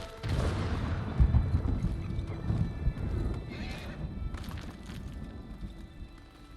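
In Ghost of Tsushima, a horse climbs a mountain with clip-clopping hooves and a whinny, close and fairly loud, fading toward the end.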